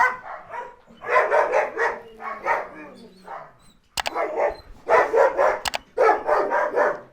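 A young dog at a dog breeding and training facility barks in quick bursts, several rapid yaps in a row, fairly close, with a pause before the barking picks up again.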